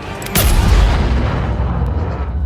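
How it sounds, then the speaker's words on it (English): An experimental tank fires both of its guns at once in a single salvo: a sharp, loud blast followed by a long, deep rolling boom that slowly fades. "The main feature of this mechanic is counterbalance and simultaneous salvo, which suppresses the recoil and won't allow the vehicle to flip over."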